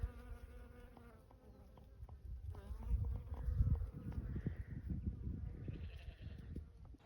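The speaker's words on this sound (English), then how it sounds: "You can hear these bees everywhere." Faint, steady buzzing of bees drifting around an off-grid homestead, with a low rumble underneath and an occasional distant animal bleat.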